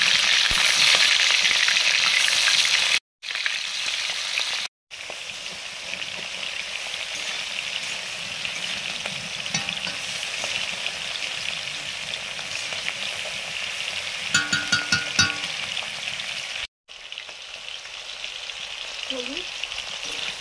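Bhola fish frying in oil gives a loud, steady sizzle across the whole stretch, broken by a few brief dropouts and some scattered crackles near the end.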